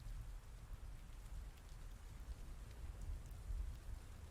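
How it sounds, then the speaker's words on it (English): Heavy rain pours down steadily, a dense close patter and hiss with a deep low rumble underneath, continuous and without speech. "Sorry, the rain's really loud."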